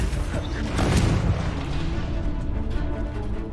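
Confringo fire spell in Hogwarts Legacy, a booming fiery blast that swells and then rumbles away, with a voice speaking over the game sound.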